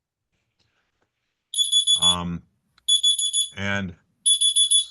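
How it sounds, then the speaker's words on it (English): A medication reminder alarm sends out bursts of rapid high-pitched beeps, loud and clear in three separate bursts, while someone speaks briefly between them. "is that me that's It's beeping? time for my meds."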